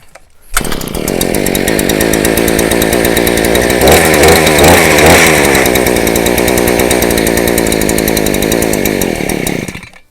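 A Harbor Freight Predator auger powerhead engine runs steadily and loudly up close for about nine seconds, a buzzing two-stroke drone that briefly wavers in pitch midway.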